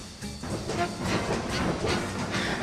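A morning express passenger train runs along the rails with a steady rolling rumble and faint rhythmic clatter, continuous and fairly close, with no talking.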